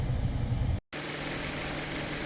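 A car engine runs steadily with low rumble, cuts out briefly near the start, then resumes as a continuous, fairly loud drone with a faint whine as the road test begins.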